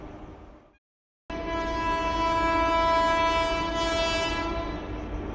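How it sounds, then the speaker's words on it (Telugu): A train pulls into a station, sounding a loud sustained horn after a brief silence, with the rumble of rolling railcars beneath, close and dominant for several seconds. "ట్రైన్ వస్తుంది"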